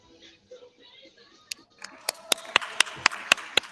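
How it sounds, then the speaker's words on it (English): Scattered hand claps from a few people at a song contest rehearsal, sharp separate claps settling into a loose rhythm, moderately close, after faint voices at the start. "people are clapping here as well"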